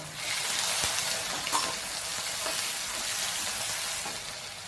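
Dried red chilies and green chilies fry in a hot pan for rava kichadi, a steady close sizzle with a few light stirring clinks throughout.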